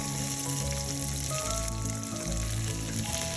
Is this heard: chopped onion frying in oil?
yes